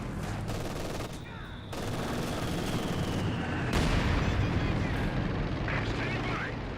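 Mortar blasts and machine-gun fire in the Company of Heroes 2 strategy game, a dense, continuous barrage of battle noise with booming impacts and rattling bursts, while a commentator talks over it.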